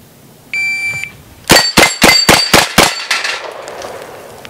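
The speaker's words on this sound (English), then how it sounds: "Let's go ahead and shoot a plate rack left to right and see what that looks like." A shot timer's beep, then six quick Smith & Wesson 629 magnum revolver shots ringing off a steel plate rack, evenly spaced and loud, with the reports and clangs trailing off into echo.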